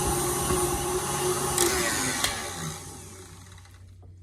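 An electric mixer creams butter and white sugar for carrot cake bars with a steady, loud motor whir and rattle that winds down and stops near the end.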